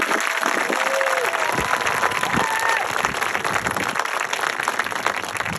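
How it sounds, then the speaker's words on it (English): An audience at a middle school spring concert applauds the 7th and 8th grade band, the clapping loud, dense and continuous, with some crowd noise and faint voices mixed in. "Can we have one round of applause for the entire 7th and 8th grade band?"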